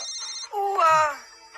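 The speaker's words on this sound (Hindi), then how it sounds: "तुम्हारा फोन बज रहा है" A mobile phone ringtone rings briefly at a steady moderate level, a bright tonal melody with a sliding phrase partway through, indoors with no talk over it.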